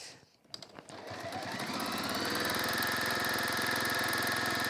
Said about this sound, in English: we're going to sew that down like we just did the other one